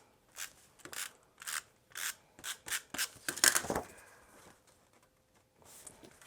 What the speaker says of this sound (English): Gonna add some tape here.